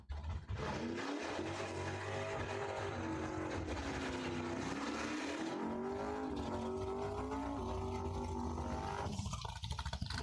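A Ford Mustang and a Chevrolet Camaro drag race in a semifinal at Cordova Dragway, engines roaring loud and continuous with rising, shifting pitch as they accelerate, fading sharply near the end.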